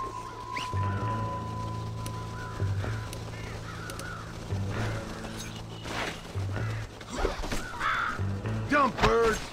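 Crows caw repeatedly in the Red Dead Redemption video game, several harsh calls scattered over steady game ambience with a low hum, growing denser and louder toward the end.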